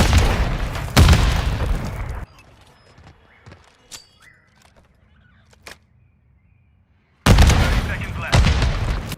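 Grenade explosions in Modern Warfare III on the Favela map, with loud booming blasts at the start and end separated by a quiet stretch of faint scattered distant pops.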